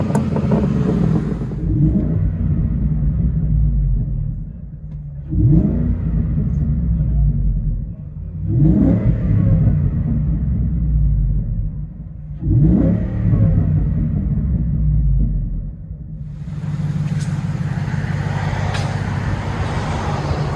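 A 2014 Ford F-150 5.0L Coyote V8 with true dual exhaust, X-pipe and Magnaflow tips revs in four or five surging bursts, heard muffled from inside the cab, with a low rumbling idle between revs.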